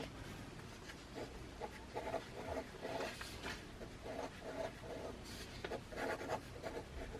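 Pen scratching across paper during a poker vlog, quiet short strokes and scribbles coming in irregular bursts at close range, with no talk.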